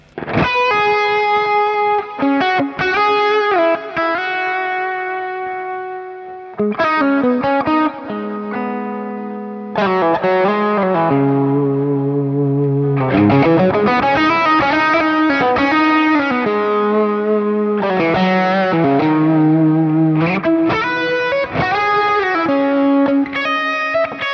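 A Mesa Boogie Nomad 45 guitar amp on its third channel gives a heavily distorted, saturated tone as a series of sustained notes and chords ring out, loud and continuous with brief gaps between phrases and no talking.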